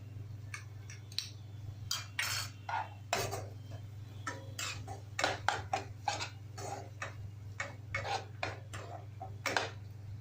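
A utensil repeatedly scrapes and clinks against a pan while sweet corn paste is stirred into half-cooked vegetables for veg corn soup, producing irregular sharp taps over a steady low hum.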